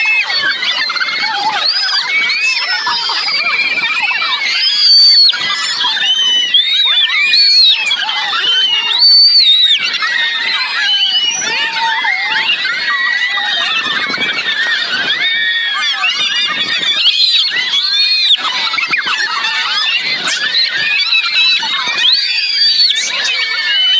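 Riders scream and shriek continuously on an amusement park swing ride at night in Bahria Town, Lahore, a loud dense chorus of high-pitched voices that never lets up.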